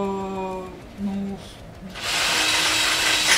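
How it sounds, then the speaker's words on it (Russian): A voice speaks first, then a power drill starts up nearby. It fills the rest of the clip with a steady, loud, rough whirring noise. "Хватит, блядь, сверлить, мы тут блог записываем."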